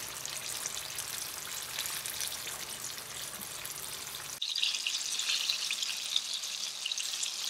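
Jackfruit nuggets sizzle and crackle in a pan of hot oil, a steady close frying hiss that brightens and intensifies partway through, with no talking.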